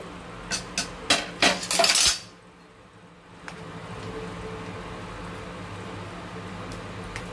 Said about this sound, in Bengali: 25 মিনিট পর ঢাকনা খুলছি